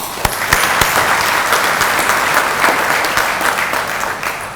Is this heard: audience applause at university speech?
yes